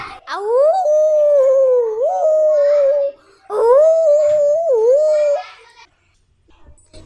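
A child at a primary school cultural program imitates a jackal, giving two long, wavering howls close to the microphone with a short gap between them and quiet afterward.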